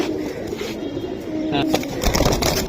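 A female pigeon coos nearby in a low rolling rhythm, mixed with rustling and handling noises that grow louder toward the end.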